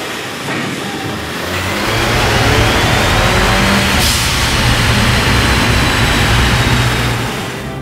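A 2014 Ford Fusion 2.0L engine revving hard on a dyno with a boost-control module, a loud sustained roar that climbs and holds at full throttle with heavy rushing noise, no voices.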